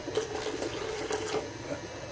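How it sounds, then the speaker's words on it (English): Water poured into pancake batter for silver dollar pancakes, a steady trickling stream running continuously for about two seconds, fairly close and without talk. "I need to add a little bit of water to that."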